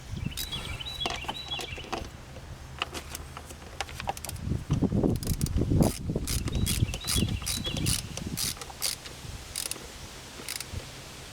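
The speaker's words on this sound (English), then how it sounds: "So now we can go ahead and tighten up our 10mm nut down here." A ratchet tightens a 10mm nut on the intake of a 1988 BMW 325i, giving repeated clicking strokes up close with mechanical clatter and no talking.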